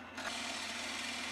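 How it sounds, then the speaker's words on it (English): A lathe spins up and turns a cocobolo wood handle for a spindle gouge between centers, with a steady whirring hum and soft scraping of the cutting tool on the wood that starts abruptly and holds steady. "Turning between centers, parting down to the measurements I want at key points along the handle"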